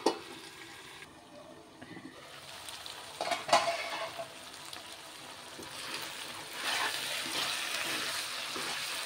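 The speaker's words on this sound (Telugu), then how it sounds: "ఇది కూడా బాగా రొయ్యలు కూడా దీంట్లో బాగా ఫ్రై అవ్వాలి" Raw prawns and bottle gourd cooking together in oil in a pan give off a soft, steady frying sizzle. A few louder stirring scrapes come near the middle, and the sizzle thickens toward the end.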